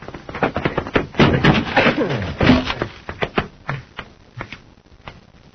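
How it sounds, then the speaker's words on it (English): Heavy thuds and rattling knocks as a door is forced, a burst of loud banging followed by smaller scattered knocks and clatter. "Force the door, Happy."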